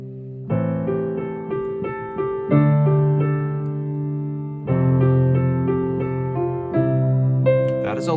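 A piano intro from a tune, with a fifth added above every bass note in the left hand, plays as sustained chords that change every second or two, close and steady, with no talking.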